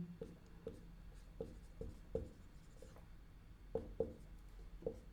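A pen writing by hand on paper, with soft scratchy strokes and small taps repeating at a steady, unhurried rhythm, quiet and close, with no voices.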